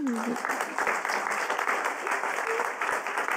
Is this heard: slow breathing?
no